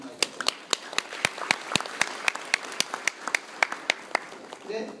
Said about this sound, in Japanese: 感謝を込めて拍手させてもらいます